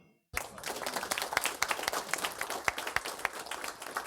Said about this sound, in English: We need some applause for that one.